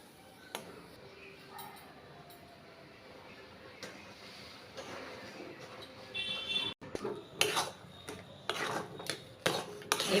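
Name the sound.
semolina being stirred into milk in a pan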